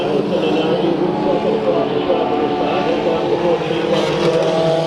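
Race car engine roaring steadily at Bakersfield Speedway during a heat race, a loud sustained drone held close throughout with a track announcer talking over it.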